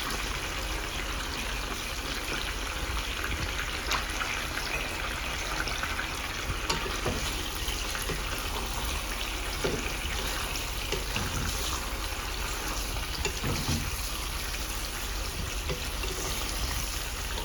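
Salted meat frying in a pan as it releases its water, giving a steady, soft sizzle with a watery bubbling texture throughout and no talking.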